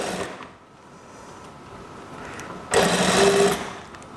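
A sewing machine stitching a kimono dress seam runs in a quiet low whir, then bursts into a loud, fast, rattling stitch for under a second before stopping.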